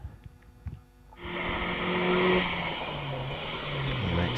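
Mazda MX-5 at Wiscombe Park hillclimb: after a quiet moment the engine bursts in loud and near, a sustained rasping drone that shifts pitch as the car powers on up the course.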